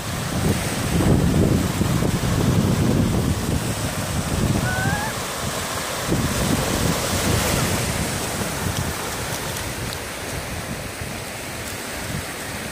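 Sea surf rolls and breaks steadily along a shore, a loud continuous wash of waves with wind buffeting the microphone throughout, no talk over it.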